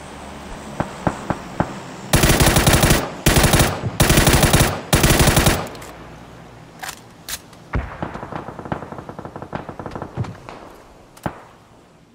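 Gunfire from an M24 bolt-action sniper rifle in PUBG, with loud rapid bursts of shots clustered early, then scattered sharper single cracks and distant pops, with almost no talk.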